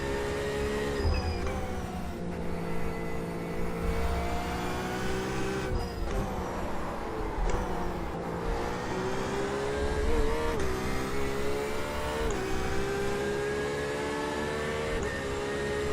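Several race cars in a Nürburgring GP practice warm-up race in a racing video game, engines droning steadily with overlapping harmonic whines and rises and falls as cars shift and pass, continuous and loud throughout.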